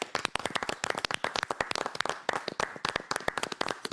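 A tribute to former Vasco president Antônio Soares Calçada: a small group applauds with sharp, distinct handclaps in a quick, uneven rhythm, close and crisp, continuing without talk.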